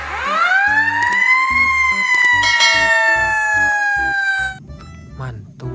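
A loud electronic siren wails close by in a rising and falling tone from a toy fire engine ladder truck, with small clicks and rattles underneath.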